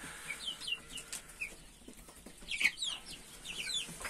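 Young Indian Game and Splash Wyandotte chickens and roosters cluck and chirp in repeated short calls, with bursts of wing flapping from the flock nearby.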